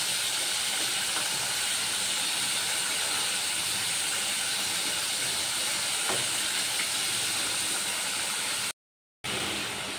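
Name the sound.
fish simmering and boiling in curry gravy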